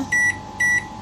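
A microwave oven gives two short, bright electronic beeps in quick succession as it is set and switched on for a pizza, close and clear over a faint background hum.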